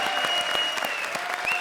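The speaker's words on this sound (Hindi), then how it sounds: "जोरदार तालियां।" A studio audience on the TV comedy show Comedy Circus gives loud, steady applause, with dense clapping filling the whole stretch at an even level and no voices over it.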